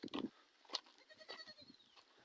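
A young goat bleats in short, thin cries, several calls spread over a couple of seconds, fairly close, with light outdoor background noise.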